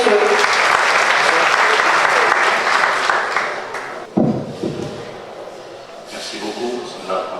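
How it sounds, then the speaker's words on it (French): Indoor audience at a university event applauding loudly and steadily for about four seconds, then fading into scattered claps and room noise. "Sous vos applaudissements, mesdames et messieurs."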